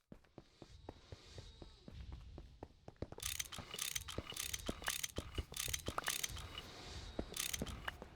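Machines being wrenched in Minecraft GregTech New Horizons produce rapid clicky mechanical ratchet-like clacks and taps, quiet at first and then busier and brighter with a layered hiss of running machinery; no talk is heard.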